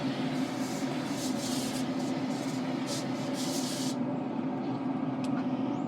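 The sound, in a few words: spraying Wagyu beef tallow onto beef ribs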